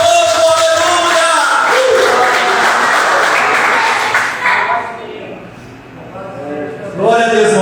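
Church congregation applauding loudly in a dense, sustained wash mixed with cheering voices, fading out midway and then picking up again at the end.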